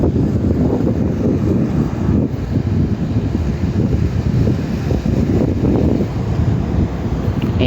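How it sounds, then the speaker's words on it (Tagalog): Strong wind gusting across a Jeddah rooftop, a steady loud roar buffeting the microphone with rumbling low gusts for the whole stretch, no voices over it. "grabe yung hangin."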